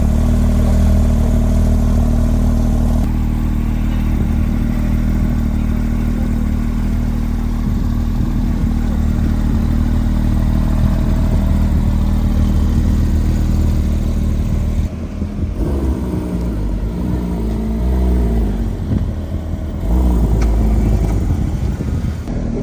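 A Porsche 992 GT3 RS idling and rumbling in Paris near the Eiffel Tower, a loud, steady engine drone with a brief shift in tone midway, close up, with no one speaking.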